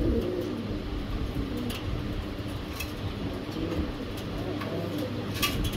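Pigeons at a seller's stock coo continuously and close by, with overlapping soft rolling calls and small flutters throughout.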